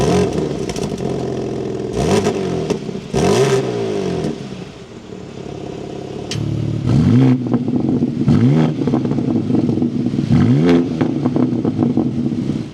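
A 2026 BMW M2 engine fires up and revs repeatedly in sharp bursts, the pitch climbing and falling with each blip, loud and close with a rough idle between.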